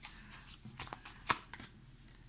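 Cards are drawn from a deck during a tarot-style reading, giving quiet, close flicks and soft snaps of card stock in an irregular series of short bursts.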